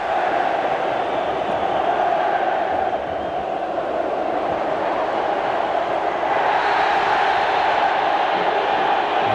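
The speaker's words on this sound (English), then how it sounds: "Didn't the crowd love that?" Dense, steady roar of a stadium crowd at a Barcelona v Real Madrid football match, sustained loud throughout and swelling slightly near the end, with no clear single voices.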